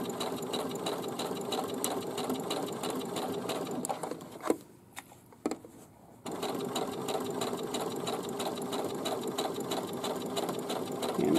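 A sewing machine runs steadily while stitching a fabric pincushion, whirring continuously up close, stopping briefly for a pivot with a couple of clicks, then resuming its even stitching.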